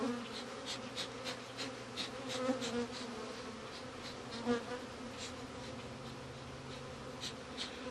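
Honeybees swarm in the flight path near a hive during queen cell relocation, a dense, close, continuous buzzing with individual bees whining past the microphone.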